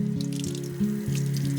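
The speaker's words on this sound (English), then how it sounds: "It tells me to rinse it under cold water for 15 seconds" A Brita water filter cartridge rinsed under a cold kitchen tap, a steady close stream of running water with shifting tones as the flow strikes the filter, continuous and fairly loud with no talking.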